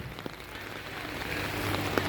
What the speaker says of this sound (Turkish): Bak sen ne yağmur yağıyor?